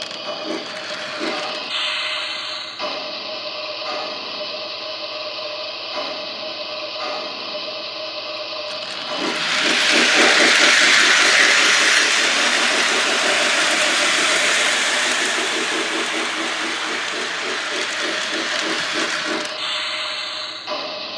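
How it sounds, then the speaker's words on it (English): A Lionel LionChief C&NW toy steam train runs on its track with a steady mechanical whir and rhythmic clicking, swelling louder as it picks up speed, then easing back. "And the further you turn it, the faster the train will go."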